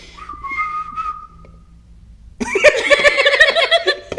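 A person whistles a short melodic tune of steady sustained notes for a couple of seconds, then giggling and chuckling take over, with some voice sounds mixed in.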